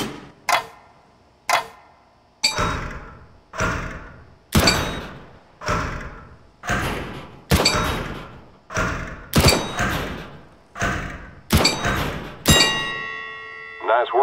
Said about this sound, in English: pick up the weapon and shoot 5 bad guys for me